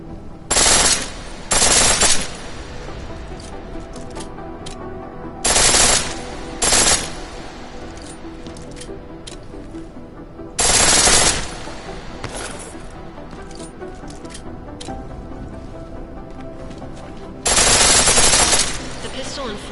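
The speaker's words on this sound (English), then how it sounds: "The pistol in full auto will take down targets fast, but it'll burn through your ammo" Full-auto pistol fire from a video game, heard as four loud, dense bursts of rapid shots spaced several seconds apart over a steady low background bed, with no one speaking.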